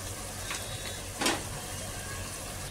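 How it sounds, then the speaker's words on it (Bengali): Fried mushroom pieces are dropped into a bubbling cornflour-and-water sauce for chilli mushroom. A faint, steady simmer runs throughout, broken by one brief, louder splash and sizzle midway. "এই যে একে একে ফুটছে, এবার এই মাশরুম ভাজাগুলো এর মধ্যে একে একে ছেড়ে দিচ্ছি।"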